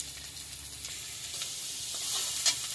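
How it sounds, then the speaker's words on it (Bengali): Chopped onion sizzles in hot oil with cumin and grated ginger, a steady close-up hiss with light crackling. A small spike comes near the end as the pan is stirred. "এবার পেঁয়াজ কুচি দিয়ে দিচ্ছি"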